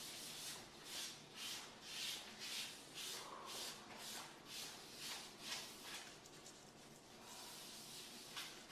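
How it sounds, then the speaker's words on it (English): Granite sealer being rubbed by hand into the edges of a countertop island, giving a steady rhythmic swishing, roughly one stroke per half second, close and soft, with no voices. "Seal the island again, applying liberal amount, rubbing it into the edges"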